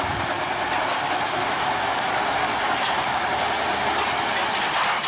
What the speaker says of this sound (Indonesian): lokomotif mulai menarik lagi lori-lori kosong untuk dilangsir